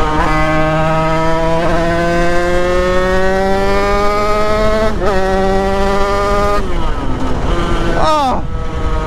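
A motor vehicle's engine revs up steadily with rising pitch, stumbles as a gear fails to engage, then falls and flares again in a short rough rev, loud and close.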